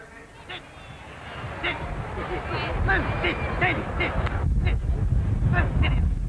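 Geese honking in a group, repeated harsh nasal calls rising over a busy outdoor background with people talking nearby.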